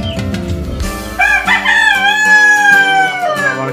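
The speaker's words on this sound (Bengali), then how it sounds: "আর এখানে আমার আরো কিছু দেশি মুরগি আছে" Caged desi chickens and a rooster on a sixth-floor rooftop farm in Dhaka: low clucking at first, then one loud, close, drawn-out cock-a-doodle-doo crow filling the rest.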